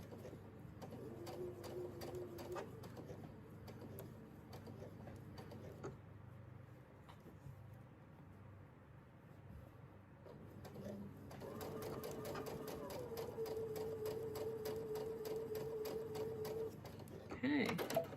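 A quilting sewing machine runs in two close stitching bursts with rapid ticking, separated by a quieter pause, while someone talks softly over the work.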